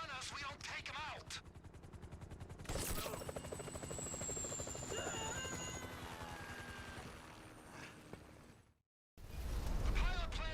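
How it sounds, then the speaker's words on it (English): A helicopter in a video game sustains a loud, steady rotor drone across most of the clip alongside heavy gunfire and action noise, briefly cutting out near the end before resuming. "That chopper's gonna be on us."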